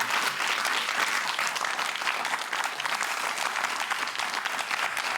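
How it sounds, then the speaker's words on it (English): A studio audience on a political panel programme claps for the panellists, a loud, even round of applause sustained across the whole stretch, with no one speaking over it. "Please give them all a round of applause."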